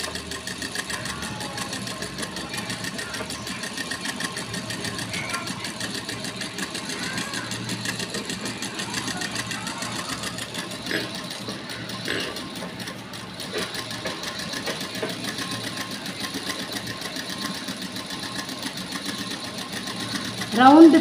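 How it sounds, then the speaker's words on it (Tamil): Electric sewing machine stitching a second seam around a round pillow, a steady rapid mechanical whirr with clicking needle rhythm running close and unbroken, with a voice talking over it and a brief louder burst at the end. "சும்மா ஒரு தையல் போட்டிருக்கோம், அதில் இன்னொரு தையல் போட போகிறோம்."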